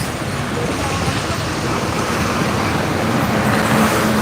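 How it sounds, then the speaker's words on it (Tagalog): Steady traffic on the coastal road at Atimonan, Quezon, with many vehicles passing: a continuous broadband roar of tyres and engines, unbroken and fairly loud. "Ang dami sasakyan ngayon ha."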